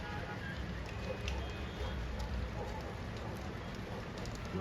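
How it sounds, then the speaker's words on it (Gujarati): Soft, steady rain falling in the hills of Mussoorie, a faint continuous patter with a few murmuring voices far in the background. "વરસાદ ચાલુ થઈ ગયો છે"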